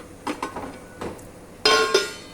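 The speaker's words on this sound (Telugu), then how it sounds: "మూత పెడుతుంది." A metal lid set down on a pot of broad bean, tomato and coconut curry, a few light clinks followed by a brighter ringing clank, close and fairly loud, with no talking.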